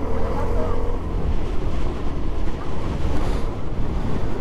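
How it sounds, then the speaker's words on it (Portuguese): Strong wind buffets the microphone during a masters-category bike race, a loud, continuous rumbling roar that fills the clip with turbulent noise. "Nossa, mas aqui o vento..."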